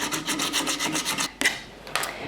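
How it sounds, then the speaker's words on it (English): Wooden shoe last being hand-sanded at the toe: a steady run of quick, rasping strokes close up, then a pause and a couple of separate scrapes, with no talking. "I'm sanding right over my actual last."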